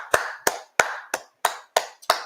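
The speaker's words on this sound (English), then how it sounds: "Round of applause to Skip." Slow, separate hand claps, about seven sharp claps from a single close source, spaced roughly a third of a second apart with brief silences between them.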